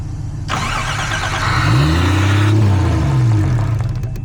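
A Toyota Cressida engine cranks briefly, then catches and revs up loudly before settling into a steady running idle, close by.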